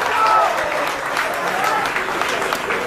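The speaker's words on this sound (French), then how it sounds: "je vous demande de vous applaudir fortement, s'il vous plaît, pour cette présence ce soir" Audience at an evening political meeting in Haiti, broad crowd applause filling the room at steady loudness, with voices faintly mixed in beneath the clapping.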